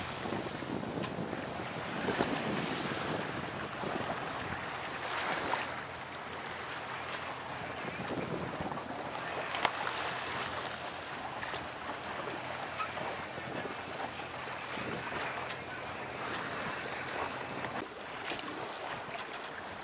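A sailboat out at sea off Mataró in May, with a steady rush of wind buffeting the microphone and the wash of waves along the hull running continuously throughout.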